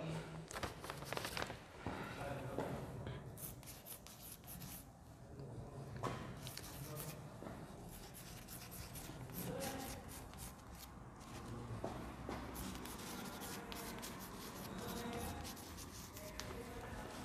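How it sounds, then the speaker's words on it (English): Chalk or marker writing out sentences on a classroom board during an English grammar lesson, scratchy strokes in steady bursts, close and moderately loud, with no talking over it. "I write some sentences here."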